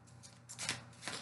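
Tarot cards being shuffled by hand in a few quick riffling bursts, the papery flutter swelling twice, close and fairly quiet with no talking.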